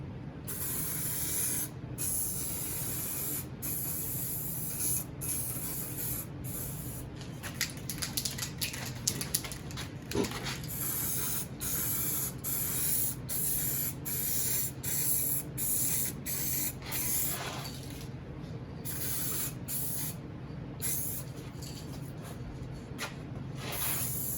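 Aerosol spray can laying down a medium coat during a car restoration, a steady close hiss running continuously with brief gaps where the nozzle is released between passes.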